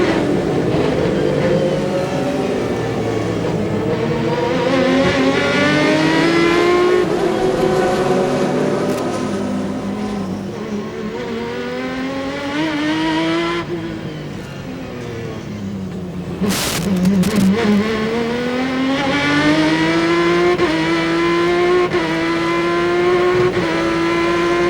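A Ferrari 550 Maranello race car's high-revving engine screams through rapid gear changes during a 2003 American Le Mans Series race at Trois-Rivières, pitch climbing and dropping repeatedly, loud and sustained, with no talking.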